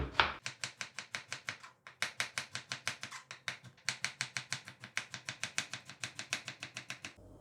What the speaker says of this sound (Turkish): Domateslerim de soğanlarım da aynı olacak formda doğruyorum.